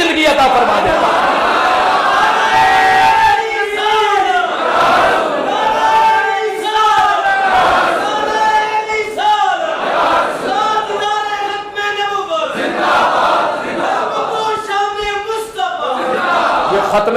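A large crowd at a religious gathering loudly chants the Khatm-e-Nabuwwat slogan in rhythmic bursts of massed voices, repeating again and again in a call-and-response pattern.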